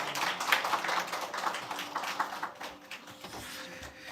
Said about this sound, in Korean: 큰 박수로 축하해 주세요.